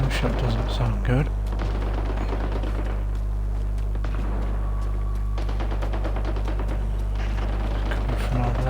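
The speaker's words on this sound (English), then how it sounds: "Gunshot doesn't sound good." Gunfire in a video game crackles through a dense, continuous game soundscape over a steady low hum, with scattered sharp bursts throughout.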